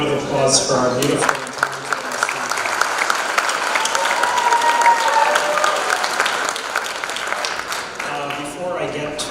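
Loud, sustained applause from a crowd filling the room at a Macedonian tribute ball in Detroit, with a voice briefly heard at the start and end.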